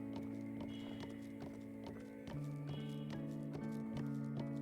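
Rhythmic hoofbeats of a galloping horse in a video game, steady and fairly close, over a sustained musical drone.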